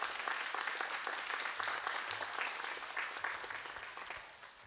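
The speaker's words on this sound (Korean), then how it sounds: "우리 박수 한번 하시죠." A church congregation at a Sunday worship service breaks into a steady burst of applause that fades slightly toward the end, dense clapping at moderate volume.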